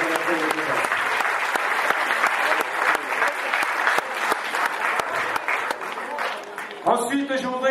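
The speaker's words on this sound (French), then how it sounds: "je voudrais qu'on applaudisse bien fort ces demoiselles du Real de Madrid" Crowd applause at a youth football tournament awards ceremony, dense steady clapping filling the whole stretch, with a cheer rising near the end.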